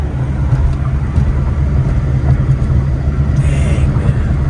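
A Skoda car with Czechoslovakian gauges drives along, its engine and road rumble a steady loud low drone heard from inside the cabin, with no talk over it.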